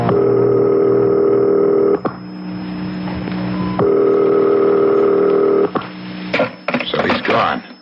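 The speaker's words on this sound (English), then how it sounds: "Dial. I'll call his private number." A telephone is dialed in an old radio mystery drama: long steady tones break off, then resume, followed by a quick run of short clicking dial pulses near the end, with no talk.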